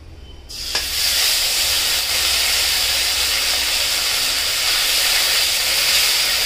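A ground paste of white and black mustard, green chili, poppy seed, melon seeds and ginger hits hot oil in a pan, setting off an abrupt, loud, steady sizzling hiss that holds for several seconds without talk.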